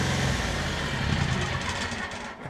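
A Kohler EFI engine, still running rich, runs steadily at close range with a continuous mid-pitched drone that dips slightly near the end.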